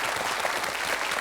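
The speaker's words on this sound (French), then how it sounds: "On le salue Olivier, on l'applaudit." Studio audience applause on a French TV quiz show, a brief dense burst of enthusiastic clapping filling the room without pause.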